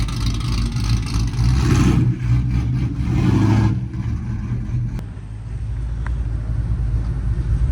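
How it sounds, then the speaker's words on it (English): A twin-turbo GMC Sierra pickup truck at a drag strip revs loudly, its engine a deep heavy rumble that swells for about four seconds, then drops back to a steadier idling drone. "Loud ass truck."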